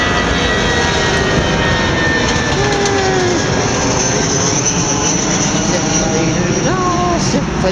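Aeroplane flying over near Heathrow, a loud continuous jet roar dominating the scene close by, steady throughout, with faint other sounds beneath it.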